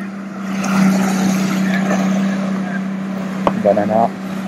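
A steady motor hum drones throughout, like a boat engine running on water, with wind noise and a brief voice near the end.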